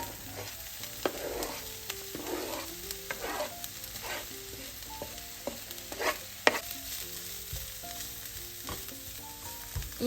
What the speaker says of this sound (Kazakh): Сол үшін қызып тұрған майға кішкене мөлшерде пияз қосатын боламын.